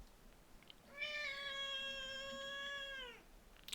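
A small cat gives a single drawn-out meow lasting about two seconds, clear and fairly close, in an otherwise quiet room.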